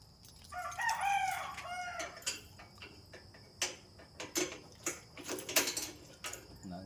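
A rooster crows in a drawn-out call near the start, then chickens cluck and scratch around in short, scattered bursts, with a soft, steady ticking underneath.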